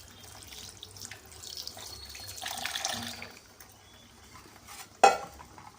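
Water pours and splashes into a bowl of strained paneer curds in a home kitchen, a soft trickling wash followed by stirring and a sharp clink of a utensil near the end.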